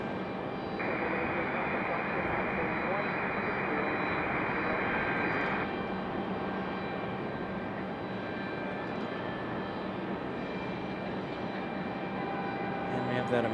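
An American Airlines A321 jet airliner at Raleigh-Durham airport gives a steady, moderately loud engine roar with tonal whines, sustained throughout and gradually easing near the end.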